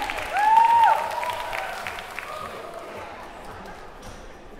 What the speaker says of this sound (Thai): ขอเสียงปรบมือดังๆ